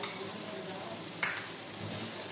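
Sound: green chillies frying in masala

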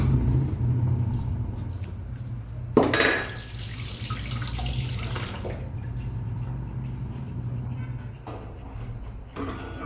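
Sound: washing grated potato under tap water

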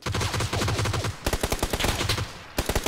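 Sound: gunfire in video game PUBG Battlegrounds

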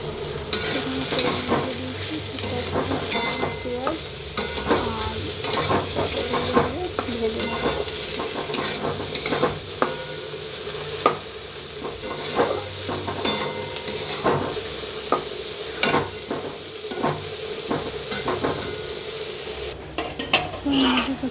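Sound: potatoes, onions and pointed gourd frying in a kadai

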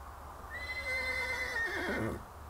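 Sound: horse neighing

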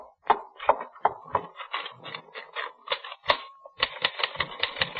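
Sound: typewriter typing, radio drama sound effect

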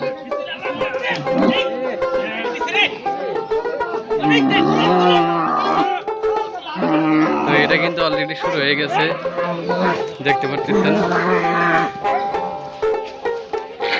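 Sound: cattle mooing

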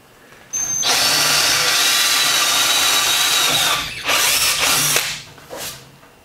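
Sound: power drill drilling cast iron

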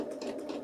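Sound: sewing machine stitching a band onto a tank top

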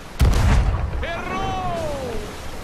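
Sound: cannon firing in a video game

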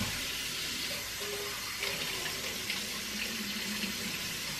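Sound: rinsing a pepper under running tap water

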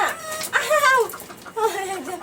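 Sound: chickens squabbling

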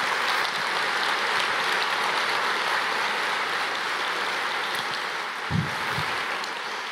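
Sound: church audience applause welcoming a speaker

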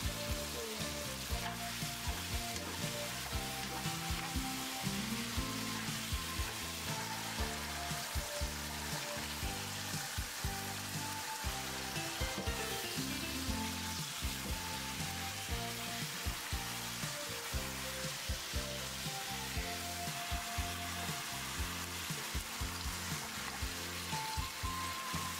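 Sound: stir-frying cooked vegetables in a wok

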